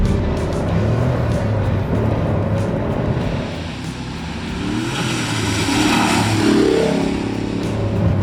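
A turbocharged Pontiac GTO with traction control switched off accelerates hard and breaks traction, its engine roaring loudly and steadily throughout, with a rising harmonic sweep near the end.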